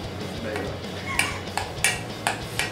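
A spoon stirs a sauce of onions, garlic and mayo in a bowl, giving a run of sharp metallic clinks and taps against the bowl's side at an uneven rhythm over a soft background.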